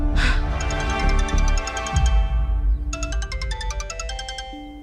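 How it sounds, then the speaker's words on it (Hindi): A phone ringtone plays a bright, repeating chiming melody in two bursts over a steady background of music and room sound, fairly loud and close. "तेजस सर जल्दी फोन उठाओ ना"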